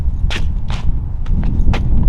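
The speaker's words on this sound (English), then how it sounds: "Maybe I can hear your footsteps." A few footsteps crunch on the ground outdoors in a cemetery in Newquay, several distinct steps at an uneven pace over a steady windy rumble.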